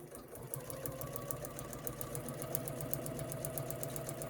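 Sewing machine stitching fabric for corgi paper piecing, a steady fast mechanical whirr with even rhythmic ticks running throughout at low volume, no voices.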